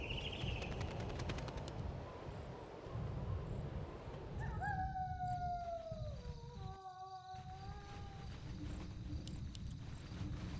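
Pit Lord's Howl of Terror ability in a Warcraft-style strategy game, an eerie howling cry with gliding, wavering tones that rises over steady game noise and battle clatter and lasts a few seconds.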